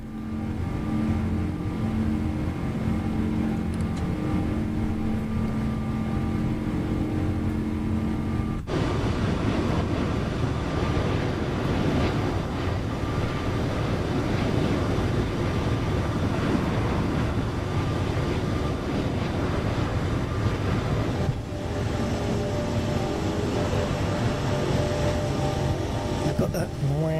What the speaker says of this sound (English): Got that wow, wow sound of the engines.